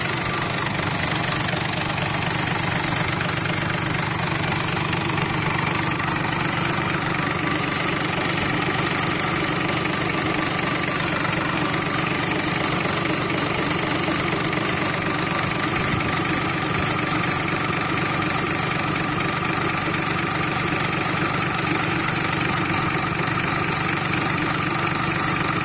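A louhan engine idles steadily during an engine test, a continuous droning hum with a constant level throughout and no speech.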